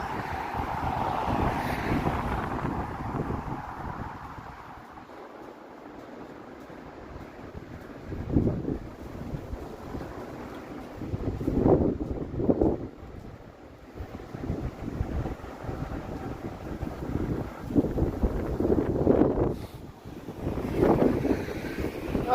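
Gusty wind buffets outdoors on a bitterly cold, snowy Toronto evening on Coxwell Avenue, roaring in surges that rise and fall against the microphone, with no talk over it.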